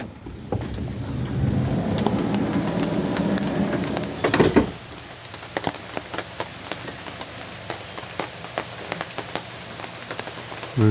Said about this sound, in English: Rainy morning.